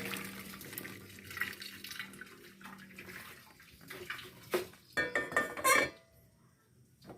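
Soapy rinse water sloshes as a container is shaken to clear leftover oil and soap before it is used to boil rice or bran. Several loud splashing pours follow in quick succession, and then it goes quiet.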